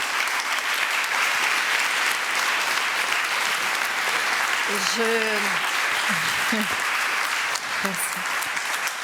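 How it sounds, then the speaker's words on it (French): Steady audience applause fills the room for a speaker at a water-themed talk, with a voice briefly speaking over the clapping near the end. "Je pense qu'on peut vous applaudir."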